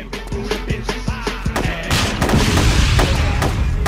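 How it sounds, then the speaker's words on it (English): Heavy, booming weapon fire in ArmA 2, with a series of sharp repeated shots followed by a louder, sustained roar of overlapping blasts close by. "what did you hit him with? It sounded like a cannon"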